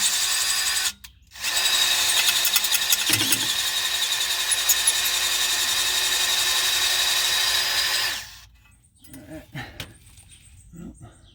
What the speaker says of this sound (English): It looked like the drill bit was coming out the other side.